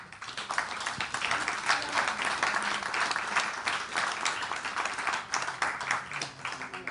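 Steady applause from a room audience at a French event on gender equality, a sustained close wash of many hands clapping with no one speaking.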